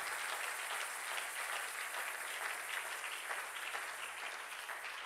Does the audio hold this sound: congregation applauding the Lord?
yes